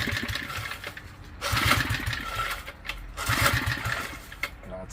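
A small gas lawn edger engine fires up and runs in rough, pulsing bursts, surging twice over a few seconds, close and fairly loud.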